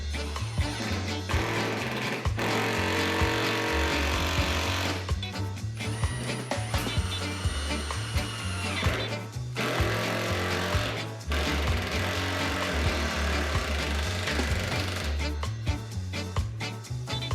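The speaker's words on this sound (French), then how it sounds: "On peut ainsi de suite forer les trous aux bons endroits pour placer correctement le convertisseur de courant." A power drill bores mounting holes for a solar power inverter on a flat roof installation, giving a rapid, rattling hammering that runs in long loud bursts with brief pauses between holes.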